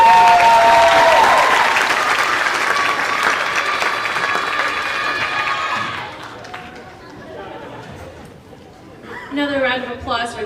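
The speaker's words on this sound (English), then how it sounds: "Another round of applause for Jazz Band, led by Miss Maria" An audience at an elementary school spring concert applauds the jazz band, loud dense clapping that fades after about six seconds into murmuring chatter, with an announcer's voice heard near the end.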